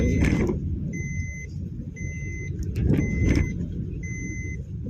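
A car engine runs during a driving lesson on a local road, giving a steady low rumble while a repeating electronic beep chimes at regular intervals over it.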